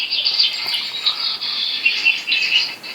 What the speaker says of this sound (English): As you can hear, my birds are very happy on the bird feeders.